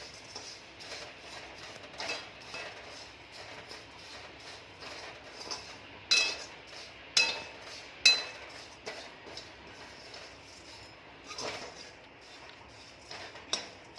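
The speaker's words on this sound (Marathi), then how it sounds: "आता मी पोहे भाजून घेत आहे पोहे पण एक मिनटामध्ये भाजून होतात" Poha (flattened rice) being dry-roasted in a pan, a faint dry rustle with scattered light clinks of a spatula against the pan, a few sharper taps in the middle.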